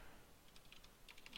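Quiet typing on a computer keyboard, a loose run of soft, light key clicks that grows slightly busier toward the end, with no voices.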